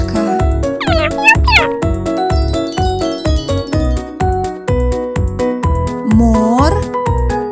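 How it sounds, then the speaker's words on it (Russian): A cat meows twice, then a third time near the end, over a cheerful rhythmic children's tune with plucked and chiming notes. "Кошка."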